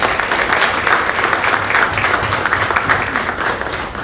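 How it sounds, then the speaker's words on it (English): An audience at a staff holiday party applauds the board members with sustained, dense clapping that stays loud and even for about four seconds. "So if we can have a round of applause for our board members."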